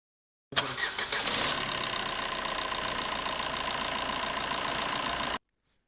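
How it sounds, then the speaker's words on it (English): Car engine cranking briefly with a few rapid starter pulses, then catching and running at a steady, close idle until it cuts off, during a battery tester check. "Select the test and ask an assistant to crank and start the engine."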